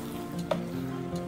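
Potato filling for murtabak is stirred in a pot, giving a quiet, continuous soft sizzle with one light scrape or tap in the middle.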